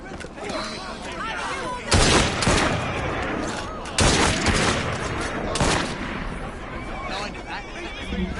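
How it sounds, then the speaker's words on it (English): Bursts of gunfire and volleys from period weapons in the Assassin's Creed Syndicate video game, loud and dense, rolling over several seconds with game voices shouting over the shots. "Fire your weapons!"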